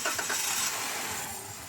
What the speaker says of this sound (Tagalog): Kaya pwede ko nang pa-start yan.